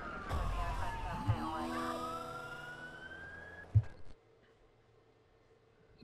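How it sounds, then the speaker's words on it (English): A police siren in the video game Watch_Dogs wails and sweeps upward over engine rumble and game noise, then cuts off abruptly, leaving quiet background. "I heard the sirens and I just reacted."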